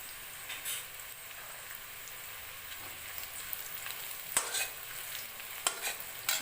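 Onions with turmeric frying in a pan make a steady soft sizzle, with occasional scrapes of stirring and a few sharper clicks near the end.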